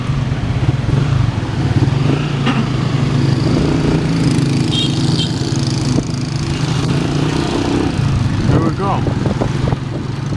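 A trike motorcycle's engine drones steadily and fairly loud while riding, a continuous buzzing putter with slight rises in pitch, and a voice talking over it.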